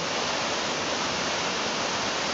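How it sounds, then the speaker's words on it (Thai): The roughly 60-metre Huai Sai Lueang waterfall in Doi Phanom National Park pours in a dense, steady hiss of falling water, constant and unbroken with no other sounds. "น้ำตกแห่งนี้มีความสูงประมาณ 60 เมตรนะครับ สวยงามครับ"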